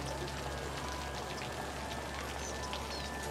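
Steady rainfall in the city-building game Cities: Skylines, a constant hiss of drops with faint splashes, even and unbroken throughout with no one talking.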